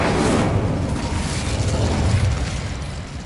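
The Confringo fire spell from Hogwarts Legacy explodes as one loud, sustained, rumbling blast that fills the whole moment and fades slightly at the end.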